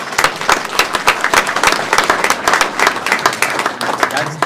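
An audience applauds during a State of the City address in Casa Grande, Arizona, a loud, dense burst of clapping that carries through the whole stretch with a voice faintly under it.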